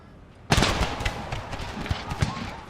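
Musket volleys in the Empire: Total War American Civil War mod video game crack out loudly at close range, a sudden burst followed by a dense, rolling crackle of overlapping shots with a few sharper reports.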